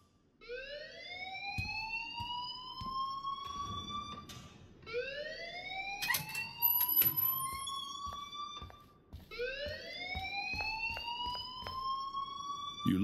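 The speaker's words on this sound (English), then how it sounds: "please turn off that alarm since that's your job" A school fire alarm in the Life Is Strange video game sounds in three rising electronic whoops, each lasting about four seconds. They come in loud, repeated bursts with short gaps and no talk over them.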